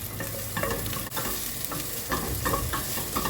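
Garlic, onion and ginger sautéing in a pan for clams cooked with tomato, a close steady sizzle broken by repeated scraping stirs and a brief dip in the hiss.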